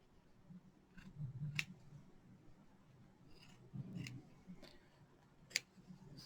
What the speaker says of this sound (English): I'm going to use these scissors. So I'm going to cut this off.